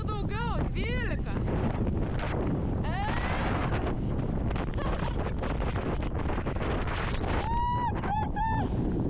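Strong gusting wind buffets the microphone outdoors in rain, a loud constant rumble throughout, with a voice breaking through at moments.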